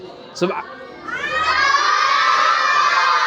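A crowd of children at a prize-giving ceremony shouts and cheers loudly in a sustained burst, preceded by a brief sharp cry.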